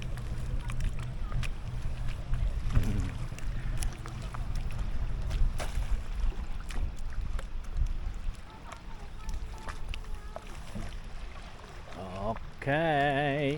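A boat motor runs quietly on a freshwater lake in the Laguna area during field sampling work. It is a low, steady drone mixed with wind buffeting on the microphone, with some faint voices and short whistling tones near the end.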